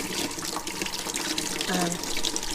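A cucumber is rinsed under running water from a tap, its spiky bits gently rubbed off; a steady, close, fairly loud splashing stream runs throughout.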